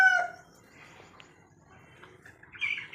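A young rooster, about three to four months old, among hens on a farm gives a short call at the start, followed by faint, scattered clucks and chirps from the flock in a quiet yard.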